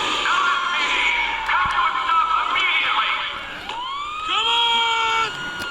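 Police car siren from a video game played on a REDMAGIC Astra gaming tablet, loud wailing and rising sweeps that repeat and overlap, with faint game noise underneath.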